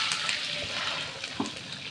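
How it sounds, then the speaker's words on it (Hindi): A cup of water poured into a pan of warm oil while making sweet raw mango chutney, a brief steady splashing gush with a small sizzle near the end. "ये 1 कप पानी डाल देंगे"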